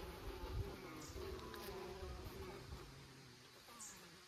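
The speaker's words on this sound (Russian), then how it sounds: "Ах, она у нас желтенькая здесь пчелка. Это с Бакфаста." Buckfast honey bees buzz around a small nucleus hive, a soft continuous hum with individual bees droning close by, heard quietly outdoors without speech.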